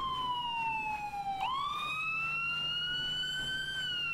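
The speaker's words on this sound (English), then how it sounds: "That siren is the most annoying shit ever" A police siren in the Arma 3 video game wails loud and close, its tone sliding down, then sharply jumping and rising again in a sustained electronic sweep with no talking over it.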